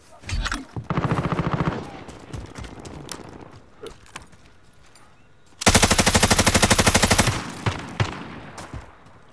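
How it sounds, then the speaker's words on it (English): Video game gun battle with loud, close automatic gunfire: a short burst, then a sustained rattling volley, quieter scattered sounds, and a second long rapid-fire burst with a few trailing shots. "Are you guys in a gun battle?"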